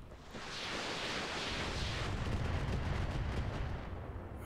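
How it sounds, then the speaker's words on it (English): Incoming missiles strike in the RogueTech mech video game, producing a sustained roaring barrage of blasts and noisy rumble that swells and then tapers off. There is no speech. "Here comes some missiles."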